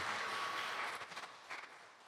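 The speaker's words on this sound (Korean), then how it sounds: "우리 박수로 한번 환영해 주시고요" A church congregation applauds together during a Sunday service, a dense burst of clapping that thins and trails off within about two seconds.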